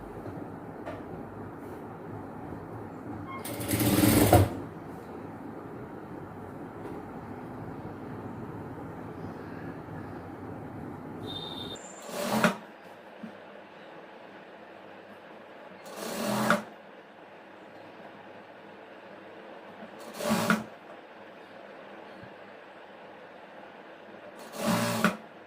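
An electric sewing machine stitches a chudidhar top in a continuous, steady whirring run, broken every few seconds by short louder bursts as the fabric is repositioned between seams.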